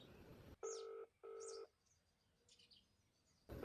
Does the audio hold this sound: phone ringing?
yes